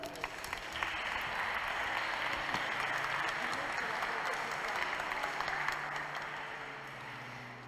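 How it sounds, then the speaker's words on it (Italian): Applause from a congregation at a Catholic mass in Italy, a dense wash of clapping that swells quickly, holds steady for several seconds and slowly thins out toward the end. "Un applauso a Giuseppe."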